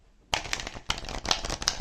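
A deck of slippery, stiff tarot cards is shuffled close up, in quick riffling bursts of crisp papery flutter separated by short pauses, with no talking.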